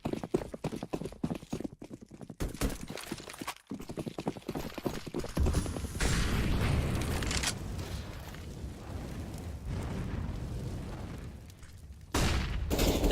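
AK 7.62mm rifles firing in a competitive CS:GO match on Cache, heard as rapid clattering bursts of shots early on, then a denser roar of distant gunfire and game noise.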